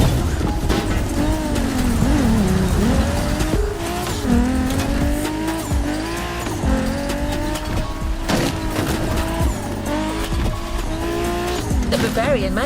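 A BMW Z4 M40i roadster in The Crew Motorfest revs and races, the engine note rising and dipping through gear changes, with tire squeal and skidding mixed in. Someone narrates over the driving sounds.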